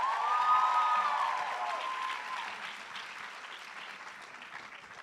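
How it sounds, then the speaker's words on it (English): Applause and cheers from a Brandeis MELA 2021 audience for the SASA 2020 presidents, starting with a high whoop over the clapping, then thinning and fading as the clapping continues. "Please join us in giving our SASA 2020 presidents another round of applause."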